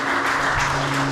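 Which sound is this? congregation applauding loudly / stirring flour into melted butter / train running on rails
congregation applauding loudly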